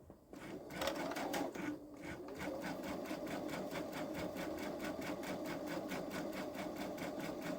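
A Babylock Solaris 3 sewing machine quilts a pumpkin pillow front with a dual feed foot, running at a steady rapid mechanical rhythm, close and continuous, with a brief pause near the start.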